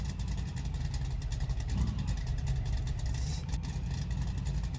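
Tired, worn V8 engine of an Opala running steadily, a continuous low rumble with a slight rise in the middle, close and loud, with no talking.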